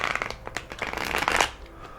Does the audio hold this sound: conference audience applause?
no